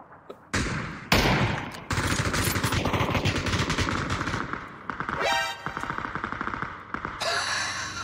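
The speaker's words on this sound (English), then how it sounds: "How's the guy out there taking some shots?" Gunfire in the PUBG battle royale game: loud, rapid automatic bursts and single shots rattle almost continuously, with brief gaps between volleys and a close, sharp attack.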